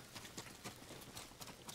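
Horse hooves approaching in the Ghost of Tsushima video game, a soft, steady clip-clop of galloping beats over a noisy in-game ambience, fairly faint and without speech.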